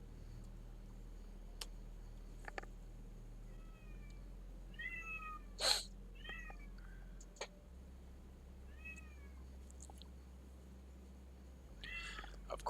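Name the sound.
cat meowing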